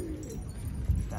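Pigeons in a loft in Hyderabad coo softly, a low murmuring call heard close amid faint background noise.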